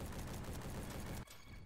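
Rapid, dense burst of FAL rifle gunfire fired from the hip in the Roblox-style shooter Bad Business, loud and continuous before cutting off abruptly near the end.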